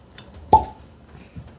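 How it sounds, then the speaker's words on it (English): A natural cork pops out of a Jack Daniel's Toasted Barrel whiskey bottle with a single sharp, close hollow plop, followed by quiet handling sounds. "Solid cork pop, natural cork."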